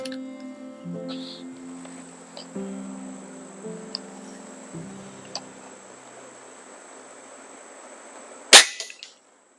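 A single sharp crack from a Baikal MP60 air rifle rings out close by near the end, after a quiet stretch with faint background tones and small clicks.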